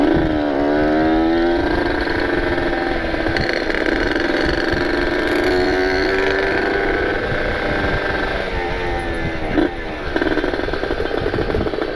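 Kawasaki Ninja two-stroke motorcycle ridden on a narrowing road near Ciwidey, its engine droning steadily and close throughout, with rising and falling pitch sweeps as it revs and shifts.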